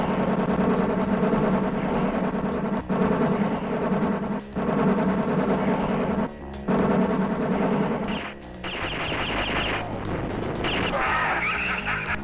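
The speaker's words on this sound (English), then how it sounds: "even if I'm firing continuously, they seem to get through my shots" Continuous rapid-fire shooting in an arcade video game, a dense, loud stream of synthetic gunfire with brief dropouts and a shift to busier electronic effects near the end.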